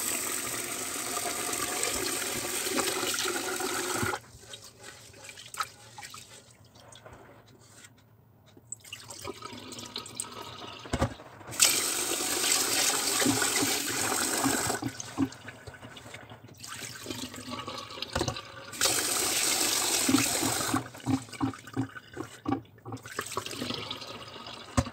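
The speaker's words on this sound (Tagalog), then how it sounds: "hugasan na natin yung ating malagkit" Glutinous rice is washed under running tap water, a steady splashing flow broken by pauses and dripping as the grains are rinsed and swirled in a container, close and fairly loud.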